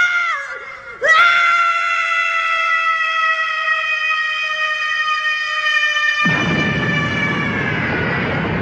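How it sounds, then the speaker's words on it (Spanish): A brief low growl rises into a long, loud, sustained scream that holds steady for several seconds before a rushing roar takes over. "en el doblaje latino hay un pequeño gruñido que precede al grito"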